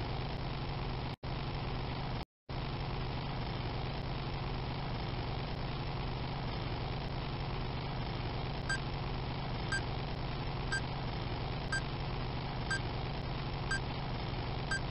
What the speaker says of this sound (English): Beeping is getting louder and quicker.